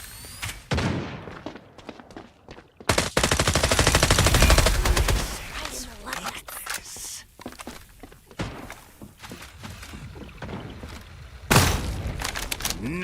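Gunfire in the video game FragPunk crackles in rapid automatic bursts, loud and close, between thuds, footsteps and quieter gaps, with a few separate shots near the end.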